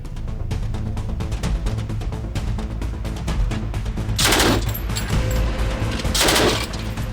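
Gunfire from an ATAK attack helicopter striking targets in northern Iraq: a steady, dense stream of rapid shots and bursts, with two louder, broader blasts late on, loud throughout with no talk.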